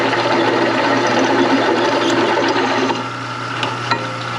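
A metal fuel pump bracket for a diesel engine swap in a 1930 custom pickup truck is being cut, a steady loud grinding, buzzing cut that runs continuously and eases slightly near the end.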